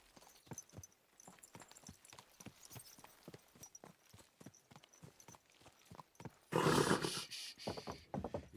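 Horse hooves clip-clop at a steady walking rhythm in Kingdom Come: Deliverance 2, close and moderately loud, before a louder burst of rustling movement near the end; no voices.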